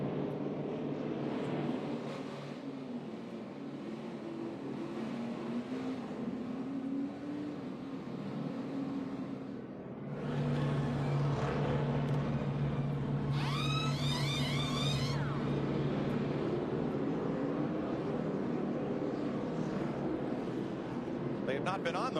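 NASCAR race cars roll onto pit road during the 2013 Auto Club 400, their engines a continuous roaring drone with a rising whine partway through, heard under steady commentary.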